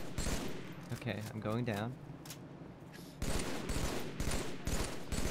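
Gunfire rattles in bursts through a Halo 3 co-op firefight while players talk over it, with one voice wavering in a sharp cry.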